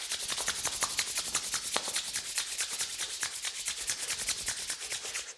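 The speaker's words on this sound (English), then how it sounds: "Then you briskly rub your hands against each other until they get" Palms are rubbed together briskly in a standing pole exercise, a close, steady run of rapid swishing friction strokes that keeps an even rhythm for several seconds with no talking.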